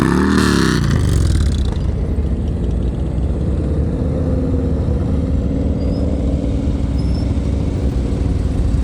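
A motorcycle engine at slow-speed riding practice in Ohio, a steady low idle-like rumble running continuously throughout, with a louder broadband burst in the opening second or two before settling into an even drone.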